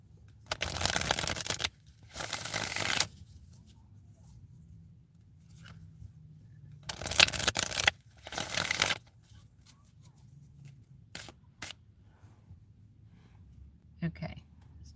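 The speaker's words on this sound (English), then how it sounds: "I'm going to give the cards a good shuffle first" Tarot cards get shuffled by hand in two pairs of brisk riffling bursts, each lasting about a second or two, close and fairly soft. Quiet pauses separate the bursts, with a few light taps and rustles near the end.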